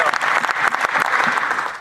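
Loud, dense applause in the Canadian parliament, many hands clapping together in a brief sustained burst that tapers off at the end.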